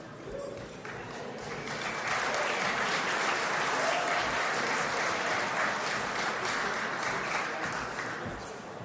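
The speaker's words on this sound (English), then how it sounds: "Round of applause to Sandfall Interactive for taking home our first trophy" Audience applause at the Golden Joystick Awards ceremony as a game studio wins a trophy, a loud sustained wall of clapping that swells and then slowly eases, with some voices underneath.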